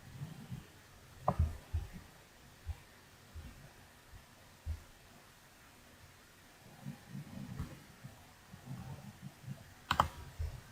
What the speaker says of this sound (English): So I'm just going to type in business.